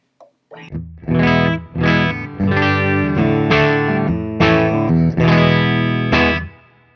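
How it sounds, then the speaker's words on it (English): Heavily distorted electric guitar chords, the pickups clipping the amp's clean channel, ring out loud and saturated, struck in a steady series of strums with sustained, crunchy tails and a brief pick noise at the start. "the output of the pickups is clipping the clean part of the amp"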